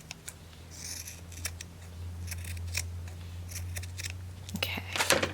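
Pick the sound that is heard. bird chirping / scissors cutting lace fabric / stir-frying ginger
scissors cutting lace fabric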